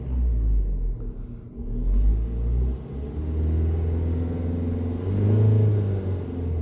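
A 2021 Peugeot Expert III van with a 1.5 BlueHDi diesel whose particulate filter is starting to clog, idling and then revved twice, the low rumble swelling and settling each time. Heard fairly close, with no talk.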